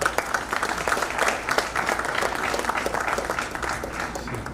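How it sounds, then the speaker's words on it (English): Audience applause for dignitaries at a human resources network gathering in Surat, a steady even patter of many hands from a hall crowd, moderately loud and continuous throughout. "Let's heartily applaud our dignitaries."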